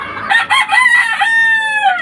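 Chickens, among them a Cuban tiger hen and a whitehatch muff hen, give a loud, close, drawn-out crow-like call that holds steady and trails off.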